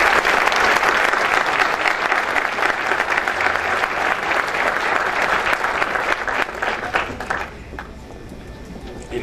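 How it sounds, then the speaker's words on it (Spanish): Loud, sustained applause from a large audience at an environmental cooperation award ceremony in Mexico, a dense steady wash of clapping that thins and fades near the end. "un aplauso muy especial para Mave."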